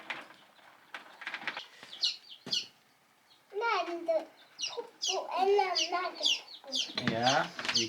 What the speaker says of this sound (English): we brought our newest batch of chicks into the growing room, into the warmth of the chick box.